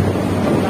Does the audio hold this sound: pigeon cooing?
no